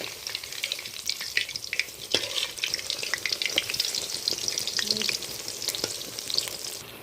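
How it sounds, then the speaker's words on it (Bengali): Pumpkin flower fritters coated in gram flour batter fry in hot oil, a steady close crackling sizzle with scattered sharp pops and occasional stirring, no voices. "তিনটা চুবিয়েছিলাম বেসনের মধ্যে তিনটাই ছেড়ে দিচ্ছি"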